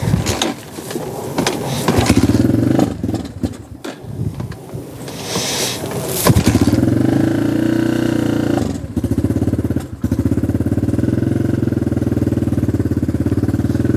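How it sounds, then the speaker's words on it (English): A Honda XR150 motorcycle with a carburetor in need of cleaning revs roughly up close, its throttle opened in loud bursts before the engine stumbles and dies, then catches and runs again in a steady idle. "As soon as I open up the throttle, it dies."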